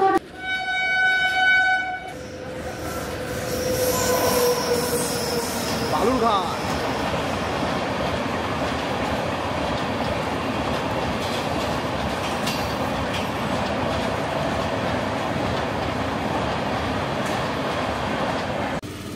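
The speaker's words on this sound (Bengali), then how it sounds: "এবার রাতের অন্ধকারে স্টেশন কাঁপিয়ে একখানা ট্রেন যাবে" Night train rolling through a station on the Khulna–Kolkata Bandhan Express route, a loud steady rumble with rhythmic clatter of wheels on rails building from a horn-like tonal start and sustaining close by throughout.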